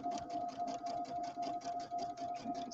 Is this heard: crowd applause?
no